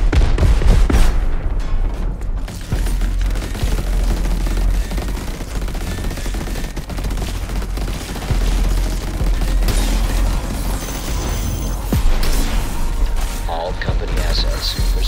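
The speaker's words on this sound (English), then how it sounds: "Those AA guns are fierce." Anti-aircraft guns fire heavily in the video game Crackdown 3, with dense, continuous bursts of gunfire and booming impacts filling the whole stretch at high volume.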